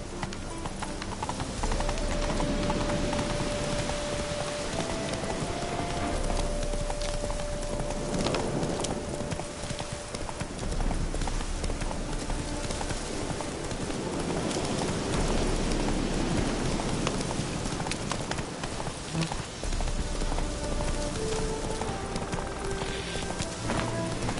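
Roach, a horse in The Witcher 3 Hearts of Stone, gallops in a steady rhythmic run of hoof clip-clops, close and loud, with rain-like noise and game ambience behind it.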